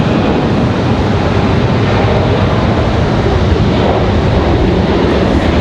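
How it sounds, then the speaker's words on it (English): An American Airlines Boeing 737 departs at Raleigh Durham International, heard as a loud, steady broadband roar that stays constant throughout, blended with heavy wind buffeting on the microphone. "We've got an American Airlines 737 about to pop across the screen there."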